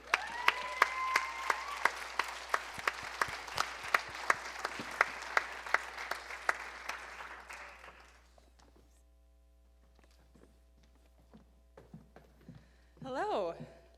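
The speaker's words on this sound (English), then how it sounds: "Can we please have a round of applause for Nora Wendell?" A theatre audience at a live show applauds a presenter, steady clapping with a few sharp near claps for about eight seconds, then fading into room hum with light noises afterward.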